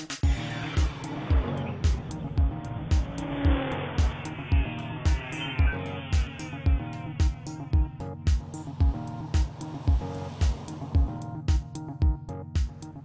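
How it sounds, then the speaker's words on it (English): A 2014 Audi Allroad, a raised Audi A4 wagon, is driven on the road. The engine and road noise hold a steady, close drone with a regular ticking beat running through it the whole time. "Let's drive this smallest, tallest Audi wagon and check the tech."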